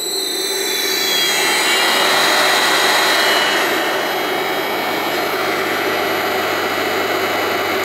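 A three-phase motor driven by a Frenic 5000G11 15 kW variable frequency drive running in reverse, a loud steady whining hum with rising tonal whine early on, continuous and close.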